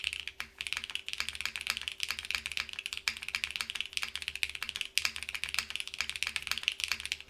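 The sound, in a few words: typing on KBDFans Margo keyboard with PBT keycaps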